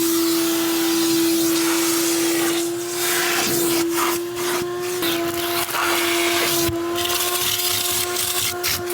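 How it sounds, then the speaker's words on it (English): A vacuum cleaner runs steadily inside a Nissan Cedric whose interior is dirty with cigarette ash, a loud constant whine with airy hiss and rustling and knocking as the nozzle moves over surfaces. "next one is just vacuum it out"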